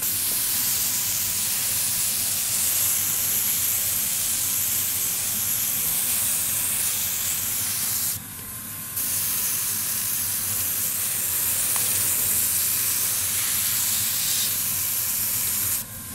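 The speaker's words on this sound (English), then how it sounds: "So just give them a little spray, your favorite ones." A steady, continuous hiss of a spray bottle misting plants fills the clip, with a short break partway through before the misting resumes at the same level.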